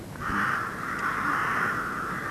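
Crows caw near a dried-up well by a boathouse in Ballysokeary, a drawn-out harsh call held for about two seconds at moderate distance over quiet outdoor background, with no talking.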